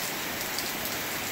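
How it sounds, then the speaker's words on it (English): Steady, dense rain hisses loudly on outdoor surfaces around a garden of potted plants, a constant wash of drops with no voices. "Wow, the rain's actually increasing"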